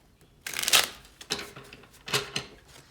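Tarot cards shuffled by hand, three quick riffling bursts close up, crisp papery flutters separated by short pauses.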